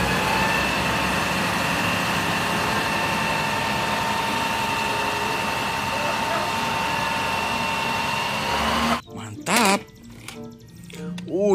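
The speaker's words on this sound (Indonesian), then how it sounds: "Wow, truk tangki, teman-teman." Tanker truck engine idling with a steady low rumble and a constant hum, close and unbroken for most of the stretch before it cuts away to brief talking near the end.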